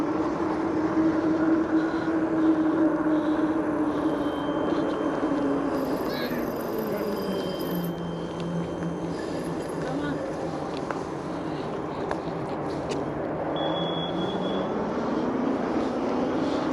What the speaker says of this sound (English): And you can really hear that motor kicking in.